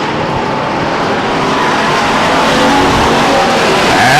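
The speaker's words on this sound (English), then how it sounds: "rockets away from the rest of the field" A Pure Stock race car at Stockton 99 Speedway accelerating hard during a B main event, its engine a loud, steady roar that builds and stays close the whole time, with no talking.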